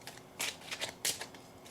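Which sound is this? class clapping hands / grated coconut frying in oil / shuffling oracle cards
shuffling oracle cards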